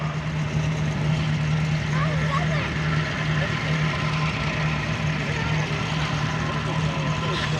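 A pre-1930 British Saunderson tractor from the World War I era runs in a vintage show ring, giving a steady, continuous low engine drone with no break throughout.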